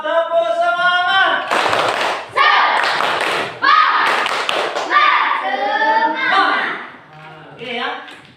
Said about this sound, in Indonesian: Oke, anak-anak coba tepuk semangat